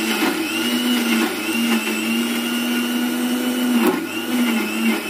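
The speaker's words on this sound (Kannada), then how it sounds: "ಇವಾಗ ಇಲ್ಲಿ ಎಲ್ಲ ಜಾರ್ ಒಳಗೆ ಹಾಕೊಂಡಿನಿ ರೀ ಇದನ್ನ ಮಿಕ್ಸಿ ಮಾಡ್ಕೊಂಡ್ಬಿಡನ್ ರೀ" A kitchen mixer grinder whirs loudly and steadily as it blends chutney of roasted gram, salt and cumin in its jar, the motor pitch rising and falling slightly with brief load changes, close and alone without voices.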